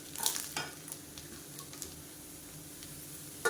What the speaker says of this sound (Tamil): இப்போ சேர்த்து நல்லா எண்ணெயில் வதக்கணும்